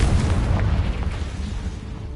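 A single Confringo fire spell explosion in the Hogwarts Legacy video game, cast inside a cave, lands as a deep booming blast that fades into a low rumbling tail.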